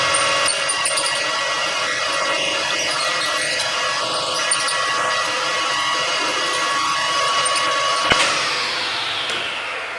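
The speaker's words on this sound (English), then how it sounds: "We've drilled in approximately 39-40 millimeters." A drill peck drilling a deep hole, producing a loud continuous whining grind that holds steady for several seconds, a sharp knock near the end, then the tone winds down, with no talking.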